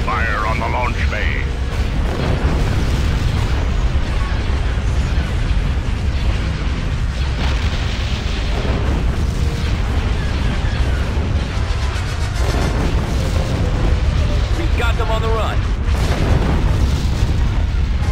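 Heavy explosions and booming blasts from Y-Wing fire pounding a launch bay in a Star Wars strategy video game, dense and continuous over a rumbling battle background with bursts throughout and brief game voice lines mixed in.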